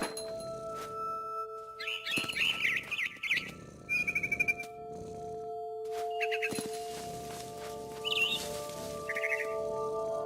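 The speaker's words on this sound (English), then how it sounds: "Then I heard chirping outside my window. It was a barn swallow going back to her nest." A barn swallow chirps in short bursts of bright tweets inside the video game What Remains of Edith Finch, heard over a steady tonal hum and muffled rustling.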